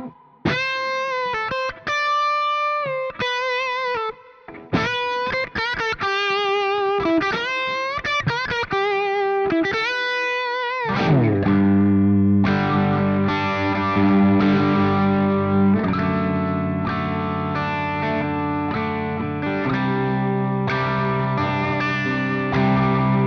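PRS electric guitar on the full humbucker bridge pickup: clean picked arpeggios give way to loud, sustained rock-and-roll chords with distortion, played alone and close.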